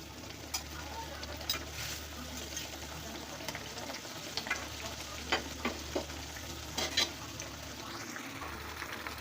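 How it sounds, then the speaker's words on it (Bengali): Eggs stirred into a simmering, spicy curry gravy with a bay leaf, for Bangladeshi egg bhuna: a steady low bubbling sizzle with scattered scrapes of a spoon against the pot, no voices. "ঝোল বলক উঠে গেছে, এখন আমি এই যে ডিমগুলো দিয়ে দিলাম। নাড়াচাড়া করে আমি ডিম দিয়ে দিতেছি।"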